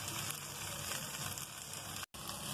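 Chopped okra sizzles in hot oil in a frying pan with browned onions, a steady, dense crackling hiss that broken only by one brief dropout near the end.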